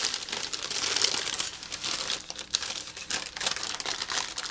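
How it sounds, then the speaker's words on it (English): Parchment paper crinkles and rustles as it is pressed into a blind-baked pastry case for a Manchester tart, a close, continuous crackling for several seconds with no talk. "And then I'm going to put my"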